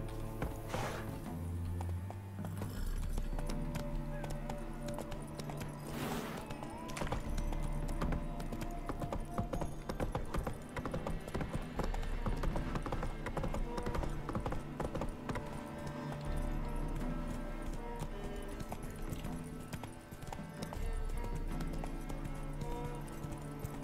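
Roach, Geralt's horse in The Witcher 3, clip-clops steadily at close range, hooves beating a continuous rhythmic trot throughout with game music and ambience underneath.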